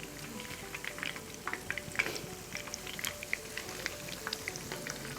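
Shahi malai kebabs fry in a pan with a steady close sizzle and frequent sharp crackles and pops of hot oil, running continuously with no talk.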